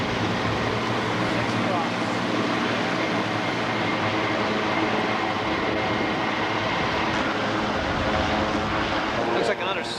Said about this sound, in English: The Sikorsky Sky Truck. Or, Sky Crane.